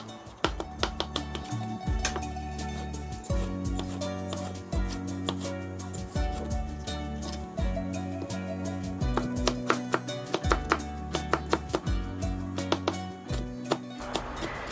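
A knife chops onion, mushrooms and red peppers on a cutting board in a steady series of crisp, close taps over soft background music.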